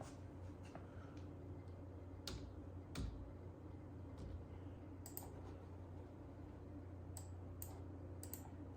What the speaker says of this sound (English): this is where I put in the username and password